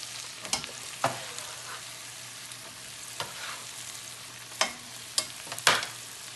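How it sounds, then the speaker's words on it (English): Mixed vegetables sauteing in melted butter over high heat in a pan, a steady sizzle broken by several sharp scrapes and clatters of stirring, close and fairly loud with no talking. "we're gonna saute these over high heat"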